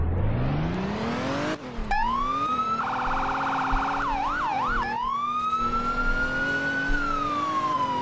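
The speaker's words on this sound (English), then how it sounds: "C for siren," A Crown Vic sheriff's cruiser in the Roblox ER:LC game sounds its siren, loud and close, moving through wail, yelp and high-low tones before settling into a long rising wail.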